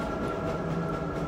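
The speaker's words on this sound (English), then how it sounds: "Security train." A security train in the video game Half-Life rumbles steadily along its track, a loud continuous mechanical drone with a constant hum and no talking.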